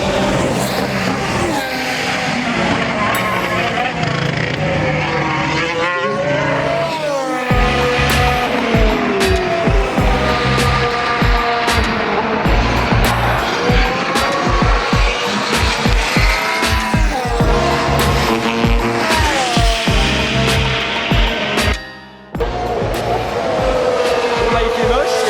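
Formula 1 cars lapping during the 2020 winter pre-season testing, engines screaming loudly and continuously as they pass, with a brief dip near the end; voices can be heard faintly under the engine noise.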